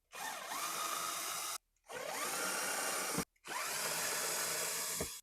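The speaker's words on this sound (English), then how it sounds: "got our trusty electric drill, and we'll get some of these screws out" An electric drill removing screws from a Ford Escort RS Cosworth whirs in three steady bursts of about one and a half seconds each, separated by brief pauses, close and loud.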